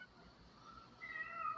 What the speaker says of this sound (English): Oh, damn the cat.